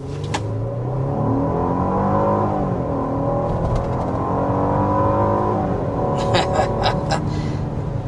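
A 2025 BMW X5 accelerates, its engine rising in a steady, fairly loud drone heard from inside the cabin, with a voice speaking over it.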